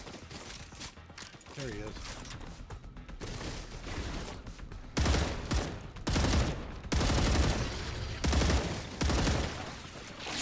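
Video game gunfire in StarRupture: bursts of rapid automatic shots crack in loud clustered volleys with mechanical clicks between them, and a voice speaks briefly over the action.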